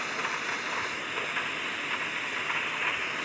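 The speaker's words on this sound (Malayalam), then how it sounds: "മഴ ഇപ്പോഴും നിൽക്കുമോ?" Steady rain hisses without a break, a dense, even wash of falling water with no voices.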